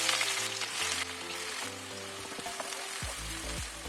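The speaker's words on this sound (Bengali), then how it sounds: "তেল গরম হয়ে গেছে এবার তেলেতে পেঁয়াজটা দিয়ে দিই বেরেস্তা করার জন্য" Onions dropped into hot mustard oil to fry for birista give a dense, steady sizzle close by, with occasional stirring scrapes and low clatter underneath. No one speaks.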